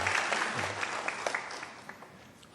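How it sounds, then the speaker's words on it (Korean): A church congregation claps for a child soloist and choir, scattered claps thinning and fading across a couple of seconds before a sudden loud burst at the very end. "큰 박수 한번 보내시기 바랍니다"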